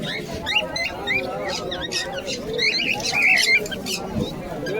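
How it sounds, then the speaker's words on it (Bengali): Pigeons and doves calling at the Beldanga bird market, with squeaky chirps and squawks rising over a continuous murmur of people talking around the stalls. "এই যে এখানে এক জোড়া ঘুঘু পাখি আছে"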